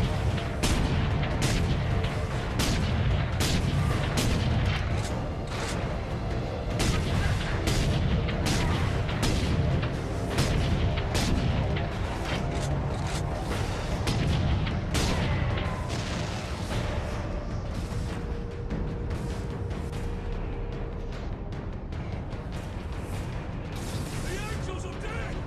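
Dense, rapid gunfire and booming blasts from the video game Warhammer 40K Space Marine, loud and continuous for the whole stretch over a layer of battle noise and music, with no pauses.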